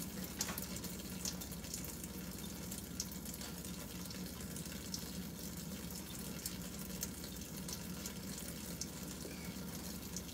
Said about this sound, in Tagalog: I-off mo na ang tubig.